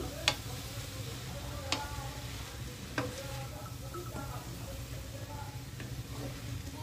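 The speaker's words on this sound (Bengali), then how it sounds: "সব সবজি একসাথে ভালোভাবে মিশিয়ে নিচ্ছি।" Mixed winter vegetables and spinach leaves for veg thuppa sizzle steadily in a pan, with a few sharp spoon taps at intervals over the soft, continuous frying hiss.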